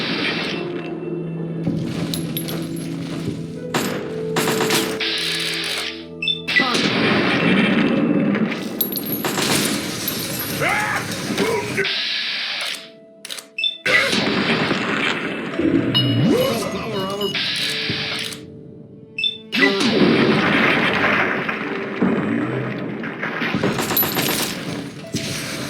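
Bursts of automatic gunfire and rapid shots from Brotherhood of Steel soldiers in the Fallout 3 video game, loud and sustained with brief gaps, mixed with explosions and mechanical clatter while voices call out over the fighting.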